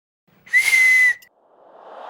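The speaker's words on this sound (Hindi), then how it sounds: "पुलिस स्टेशन में हिम्मत कैसे हुई थारी सीटी मारने की?" A single sharp whistle is blown hard inside a police station, one steady shrill note lasting about half a second, loud and close, followed by a fading hiss.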